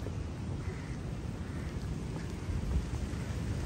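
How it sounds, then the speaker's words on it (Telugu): Steady, heavy rain pours down in Goa during the July monsoon. The wash of noise stays constant and close throughout, with faint low rumbles underneath and no one talking. "వర్షం పడుతుంది, మళ్ళీ స్టార్ట్ అయింది వర్షం"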